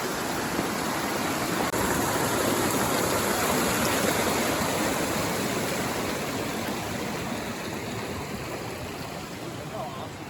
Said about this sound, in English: So we're gonna cross the main creek again